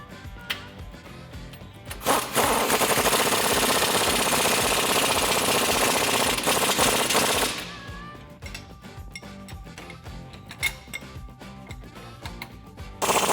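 A power tool drives nuts tight on a Rough Country 3-inch bolt-on suspension lift kit on a Ford F150, a loud continuous rattling burst of about five seconds between quieter workshop clatter and clicks.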